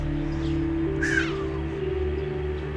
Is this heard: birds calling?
yes